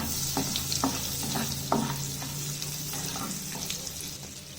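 Cumin seeds crackle in melted butter in a pan for street-style pav bhaji, a close, steady sizzle broken by light scraping and stirring clicks, with no talking.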